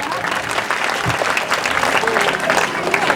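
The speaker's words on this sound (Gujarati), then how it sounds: "તાળીઓના ગડગડાટ" Audience at a school annual day function applauds steadily during a bouquet welcome for guests, a dense, even patter of many hands clapping throughout, with faint crowd murmur mixed in.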